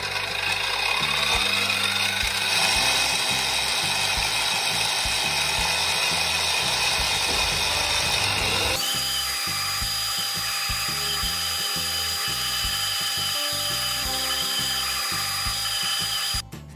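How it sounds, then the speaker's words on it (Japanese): A power drill bores a hole in black resin while a knife handle is being made, whining loud and steady at close range for about sixteen seconds, its pitch dropping partway through as the bit cuts, then cutting off at the end. "黒い樹脂に穴を開けます。"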